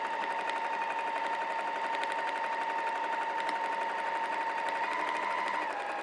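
A sewing machine runs continuously at a steady pace while quilting fabric and foam for a vinyl bag, giving a close, even mechanical hum with a rapid needle rhythm and no voices.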